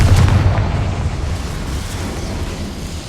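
An explosive spell cast in the Hogwarts Legacy video game bursts with a loud, deep boom at the start. A rumbling blast follows and slowly fades over a few seconds, with no talk.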